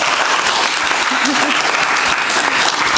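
A crowd gives the ambassador another big round of applause at a foundation event, loud and dense clapping sustained across the whole stretch, with some voices mixed in.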